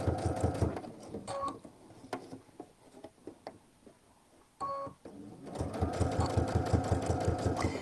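A sewing machine fitted with an adjustable zipper foot stitches in rapid, rhythmic mechanical bursts, pausing briefly and then running again, close and clear.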